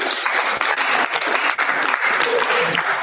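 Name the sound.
audience applause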